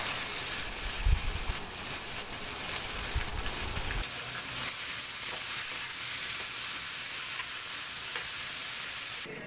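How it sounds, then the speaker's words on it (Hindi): Onions sizzle in hot oil in a pan after garlic has browned, a continuous loud hiss broken by a few scraping stirs near the start, with no talk. "इसके बाद मैं प्याज डाल रही हूँ।"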